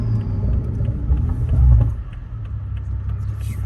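A tuned Toyota Supra running E85 pulls hard with a deep, steady engine rumble from inside the car, swelling briefly louder midway before settling back to a droning cruise.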